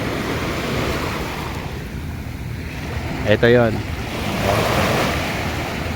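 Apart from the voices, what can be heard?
ocean waves on shore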